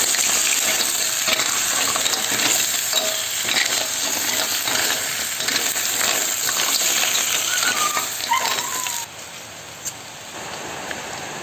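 A kilo of mussels tumbles into a pan for lemongrass-steamed mussels, giving a steady rattling, sizzling clatter of shells, close and loud, that cuts off near the end and leaves quieter hiss.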